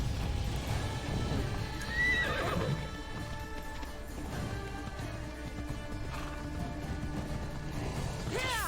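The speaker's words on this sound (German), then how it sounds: "Da nehmen wir aber unser treues Pferd." A horse in the Assassin's Creed Odyssey video game whinnies twice over steady galloping hoofbeats, mid-distance and moderately loud, with a brief crash and faint game ambience.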